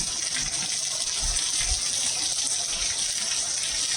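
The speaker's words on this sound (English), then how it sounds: "Man, it's pouring." Heavy summer rain pours down in a steady, dense rush that holds loud and even throughout, with nothing else heard over it.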